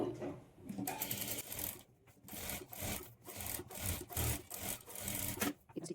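Sewing machine stitching decorative border trim onto blouse lining, a near, continuous whirring run broken by several short stops and restarts over six seconds, with no talking.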